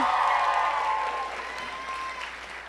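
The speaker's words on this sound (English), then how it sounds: "Please give a very, very big round of applause for Elizabeth" Applause for a speaker at a FabLab press event, loud at first and gradually thinning, with a faint voice or tone sounding through it.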